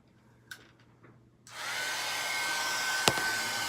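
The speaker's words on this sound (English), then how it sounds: "I'm going to have to use my heat gun to dry this" A heat gun drying watercolor paint switches on partway through with a sudden loud, steady blowing roar that holds to the end, after a few faint clicks and handling noises.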